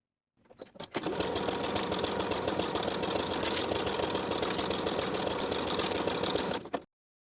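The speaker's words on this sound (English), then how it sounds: "Then I'll edge stitch close to the upper folded edge of the bias tape from one side to the other." A sewing machine edge-stitches bias tape along the folded edge of linen shorts in one continuous, steady run of rapid stitching, close and even, starting and stopping abruptly.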